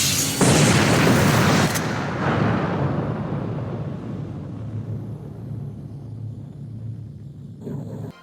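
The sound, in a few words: explosions in the sky, video game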